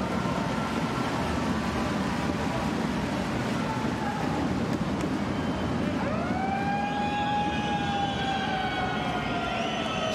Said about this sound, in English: Siren sound.